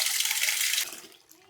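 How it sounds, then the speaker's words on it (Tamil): Tap water runs into a cooking pot as a loud, steady rush that stops sharply partway through, leaving only faint room noise afterward. "பாத்திரம் எடுத்துக்கிறோம், தண்ணி பிடிச்சிக்கிறோம்,"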